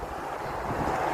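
Strong outdoor wind gusts and rumbles into the microphone on a windy day in Australia, producing a continuous, fairly loud buffeting roar with no voices.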